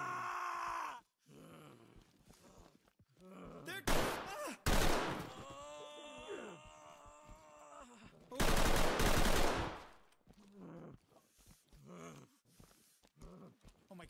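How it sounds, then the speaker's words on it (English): Video game gunfire arrives in a few loud, harsh bursts, one short and one longer volley, separated by quieter stretches holding groaning, animal-like cries and other game noises. "Oh my God, they're still shooting."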